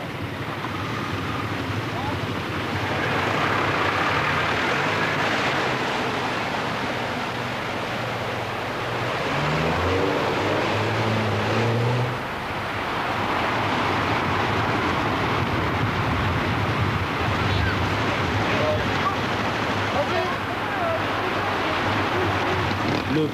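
Off-road motorcycles from a 1986 Iberian rally splash through a water ford, giving a continuous loud wash of churning water and engine roar that swells and eases over about twenty seconds.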